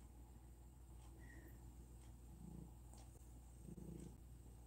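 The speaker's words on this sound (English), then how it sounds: "Oh, she's purring. She's a low purring girl." A cat purrs low and steadily at close range, the rhythmic rumble continuing softly with faint background noise.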